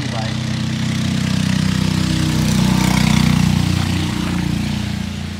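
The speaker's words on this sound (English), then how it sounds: "Where else can you see a mini bike going down the street with ape hangers?" Small mini bike with ape hanger handlebars running down a street, a steady close engine drone that swells slightly mid-pass, with people talking over it.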